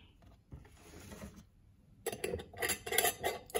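Chia seeds rattle inside a covered container being shaken for a ginger, cucumber and mint smoothie: a soft, quiet patter at first, then a louder burst of rapid, rhythmic shaking with no talking.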